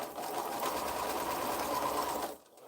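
A sewing machine stitching a curved quilt block runs in a steady, continuous whir at close range, then stops abruptly near the end, with no talking.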